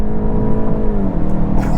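A 2022 VW Golf GTI S Mk8 launches hard on launch control, its engine note climbing loudly and steadily through the revs with a dip near a gear change, close and dominant throughout.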